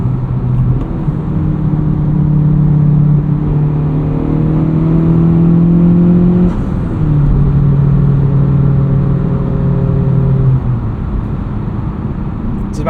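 A 2023 Honda Civic Type R FL5 with a turbocharged engine and Cobb Redline carbon fiber intake, in R mode, pulls through the gears with a steady droning engine note that rises and falls under sustained road rumble, with no talking.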